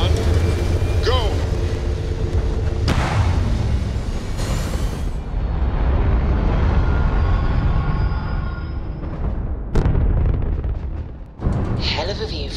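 A spaceship lifting off in the video game Starfield: a loud, sustained, rumbling roar with bursts of engine thrust and whooshing swells, joined by brief spoken voices.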